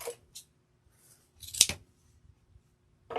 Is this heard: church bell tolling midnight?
no